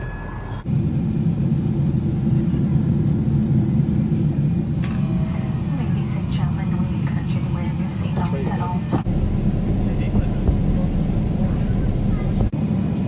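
A steady, deep cabin rumble fills an airliner in flight, droning evenly throughout while passengers chat nearby.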